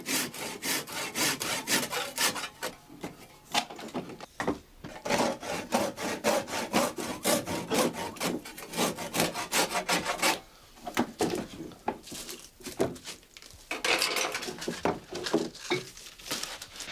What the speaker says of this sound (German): Die überstehenden Gabelenden sägt Bernhard Nellesen mit dem Fuchsschwanz ab.